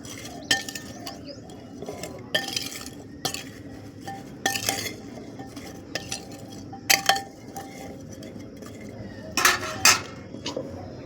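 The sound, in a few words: mixing spices with turmeric in a pan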